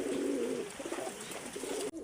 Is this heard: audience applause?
no